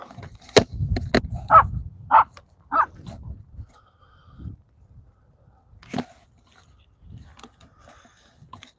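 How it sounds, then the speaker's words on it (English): Dogs give a few scattered barks and yips indoors at a moderate distance, with quieter gaps and faint scuffling between them. "Every time I go downstairs, they always bark at me."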